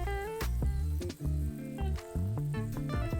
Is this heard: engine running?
no